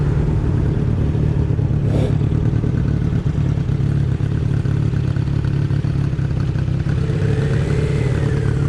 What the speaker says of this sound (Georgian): არ ვიცოდი ასეთი ხმარ მეკდებოდა. ეს ელექტრობაიკი.